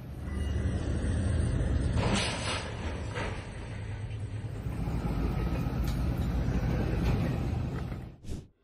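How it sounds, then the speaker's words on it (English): A train strikes a tow truck at a crossing in College Station, Texas, heard as a continuous loud rumble of rolling railcars with a sharp short burst near the end. "As you can see, a train hits a tow truck in College Station, Texas."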